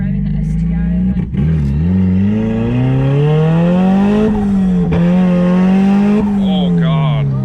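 Engine of a turbocharged Mazda Miata droning as the clutch slips, a loud, steady tone whose pitch wavers up and down, with people talking over it.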